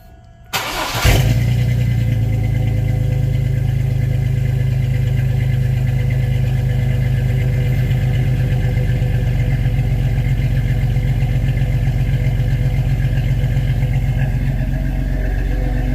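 A Chevrolet Blazer with a newly built exhaust cranks briefly, fires up and settles into a loud, steady idle that rumbles on close by for the rest of the clip without any speech.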